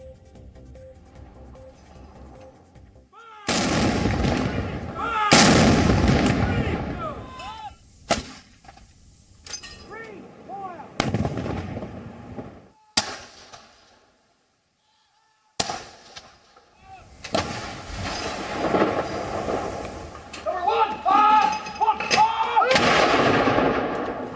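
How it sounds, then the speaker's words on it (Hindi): Royal gun salute artillery fire for Queen Elizabeth booms out as loud, separate blasts with gaps between them, several heavy reports echoing over the course of the sequence. "क्वीन एलिजाबेथ को याद करते हुए उन्हें ब्रिटेन की तीनों सेनाओं के रॉयल गन सल्यूट भी दिया जाएगा"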